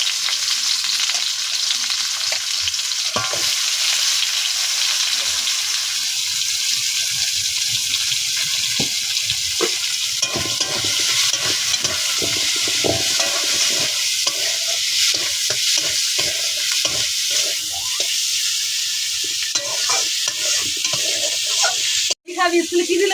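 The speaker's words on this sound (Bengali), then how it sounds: "দিলাম কালো জিরে, এবার দিয়েছি পেঁয়াজ" Onion and black cumin fry in oil in a pan while being stirred. The sizzle is close and steady for over twenty seconds, with scraping stir strokes and a sharp clatter near the end.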